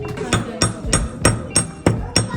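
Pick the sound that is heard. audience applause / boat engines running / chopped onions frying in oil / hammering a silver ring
hammering a silver ring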